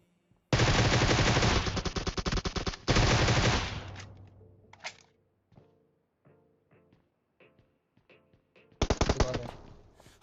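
Groza assault rifle fire in the PUBG Mobile video game: loud, close automatic bursts in two long volleys, then scattered quieter shots and echoes, and one more sharp burst near the end.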